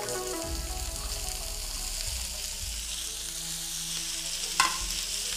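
Chillies and karonda berries tipped into onions frying in hot oil for a pickle, giving a steady close sizzle with brief stirring scrapes and a short clink near the end.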